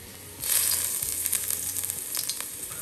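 Garlic and ginger hit hot oil in a pan for Gobi Manchurian sauce, the quiet hiss swelling into a bright steady sizzle with faint crackles, heard alone at close range.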